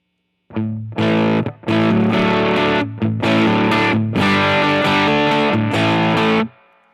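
Heavily distorted electric guitar through a Grammatico GSG100 amp circuit, loud chords strummed in bursts with brief gaps, ringing out before cutting off at the end.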